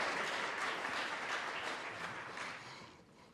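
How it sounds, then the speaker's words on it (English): A church congregation claps for Diana, a soft, moderately dense round of applause that fades gradually toward the end. "you can clap for her"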